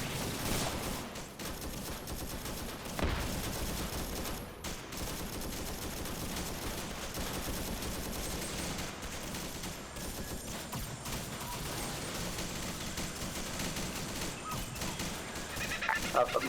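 Video game battle set in Vietnam fills the air with continuous rattling gunfire and bursts of automatic weapons, dense and loud with little pause.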